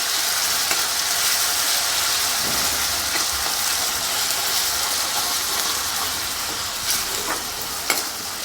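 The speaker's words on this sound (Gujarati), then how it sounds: "આદુ, મરચાં અને લસણ પણ તેલમાં સરસ સાતળી લેશું." Ginger, green chillies and garlic sizzle steadily in hot oil for a fenugreek seed curry, a continuous crackling fry with occasional stirring clicks and no talking.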